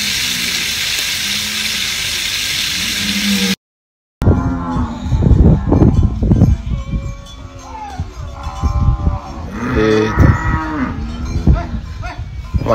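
Cattle mooing at a farm feeding trough, several loud, close calls overlapping in irregular bursts after a brief hiss and a moment of silence.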